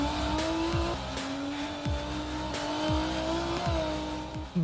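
A car, the Ford P1 racing concept from the Team Fordzilla project, drives past with a steady engine drone and repeated gear-shift dips, fairly faint and continuous with no talk.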